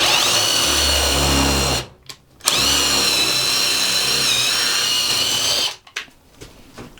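A power drill drives pocket screws into a wooden towel rack, two long whining runs with a short pause between, close and loud, then stopping with faint handling noise.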